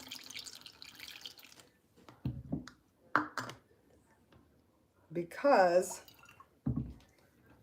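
Kool-Aid drink is poured into a plastic jug in a few short splashing bursts, the longest gurgling pour near the end, with a voice speaking briefly between pours.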